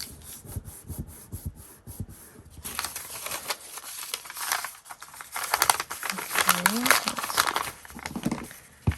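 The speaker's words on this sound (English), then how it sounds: "Let's rip that off right there. Tear that really good." Paper for a vintage-ephemera junk journal being ripped and crumpled close up: a run of quick crackling tears and crinkles, then denser rustling and scraping, with a brief voiced sound partway through.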